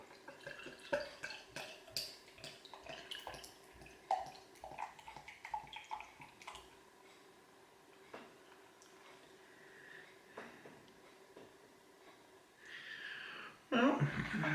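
Waitrose Duchy Golden Ale being poured, a quiet trickle with fizzing drips and small splashes that thin out midway, then a louder burst of pouring at the end.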